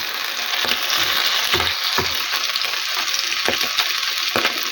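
Chicken liver patties sizzle steadily in hot oil in a frying pan, a dense continuous crackle with a few sharper spoon taps and spatters near the pan.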